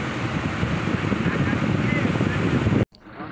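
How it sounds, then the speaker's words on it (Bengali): A coast guard speedboat in the Sundarbans near Dublar Char passes on open water, a loud, steady broadband engine and hull roar with wind buffeting, cutting off abruptly near the end. "কোস্ট গার্ডের স্পিড বোট গেল একটা মাত্র, ঢেউ তুলে সামনে যাচ্ছে"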